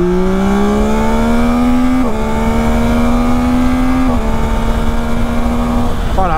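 A Yamaha Tracer 9 GT+ motorcycle, 119 horsepower, pulls away under hard acceleration, its engine note rising loud and close through successive gear changes with short dips between shifts; no speech.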